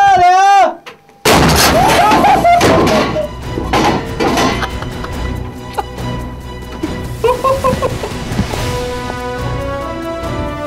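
Tank main gun firing armour-piercing rounds at an armored forces school range in the rain, with a sharp heavy blast followed by several loud booming reports and rumbling echoes, as people shout commands and talk throughout.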